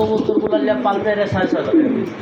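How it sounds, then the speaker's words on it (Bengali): A female pigeon coos in soft, repeated throaty calls close by, amid talk at a pigeon sale. "এটা হচ্ছে আপনার মাদি কবুতর"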